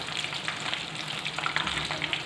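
Cheesy pasta squares fry in hot oil, giving a soft, even crackling sizzle that stays quiet and steady throughout.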